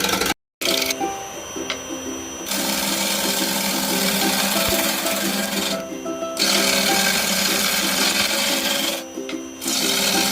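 A power tool cutting through wood, a loud continuous rasping, grinding whine with a few short pauses and no talking.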